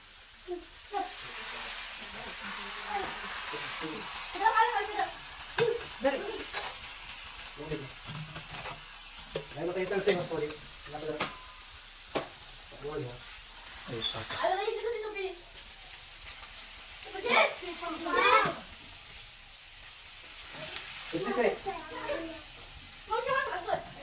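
Potatoes fry in hot oil with a continuous soft sizzle while being stirred, under frequent conversational talk from people nearby.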